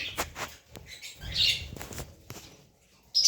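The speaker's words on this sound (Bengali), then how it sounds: "এই তো আমার পাখির বাচ্চা, মাশাল্লাহ 5টা বাচ্চা আছে" Five baby lovebirds in a cage make bursts of close wing flapping and fluttering, mixed with brief chirps and squawks.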